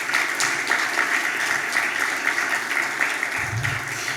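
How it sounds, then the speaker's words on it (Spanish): Audience at a business panel in Costa Rica clapping steadily for an introduced speaker, a continuous moderate round of applause with a low voice briefly showing near the end. "Otro aplauso, por favor."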